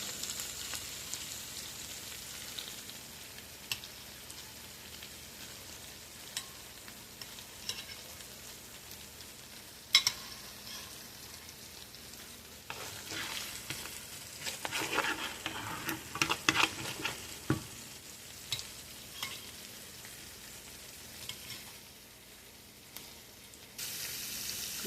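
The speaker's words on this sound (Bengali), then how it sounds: "আমি এখানে একটু বাটারের গ্রেভিটা দিলাম" Butter gravy bubbling and sizzling in a pan while being stirred, a faint, steady crackle with scraping strokes of a spoon that build up in a louder stretch midway through.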